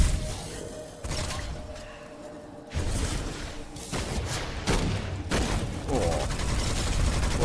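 Gunfire in the video game Witchfire: repeated loud shots and bursts with whooshing, mechanical clatter and crashes, dense and close, one burst following another, with a voice speaking over parts of it.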